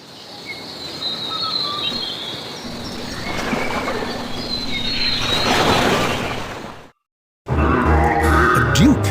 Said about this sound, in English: Two Huia birds perch up in a tree, warbling a chirpy song